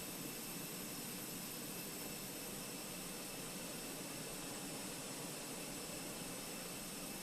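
A steady, even jet engine roar with a broad high whine runs without a break from a simulated airliner in Microsoft Flight Simulator, constant in level and heard alone.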